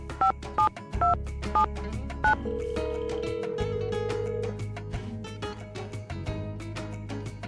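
Touch-tone telephone dialing in the Nancy Drew game Secret of the Scarlet Hand: a run of short keypad beeps over a steady dial tone, then a ringing tone with background music, clear and close.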